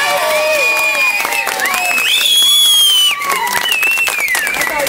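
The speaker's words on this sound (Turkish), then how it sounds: "Karagümrük'ün en meşhur midyecisi sevgili Yavuz abinizi bir alkışlayalım" A crowd in Karagümrük, Istanbul claps and cheers for a well-known local mussel seller, with steady loud applause mixed with whoops, shouts and excited voices throughout.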